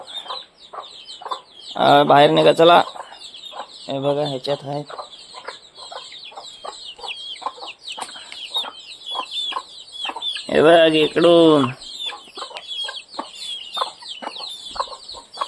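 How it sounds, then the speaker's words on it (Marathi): Chickens clucking and chicks peeping close by, with bursts of louder hen squawks, while a person talks over them. "ह्या पिशवीमध्ये पण आहेत ना कोंबड्या आहेत"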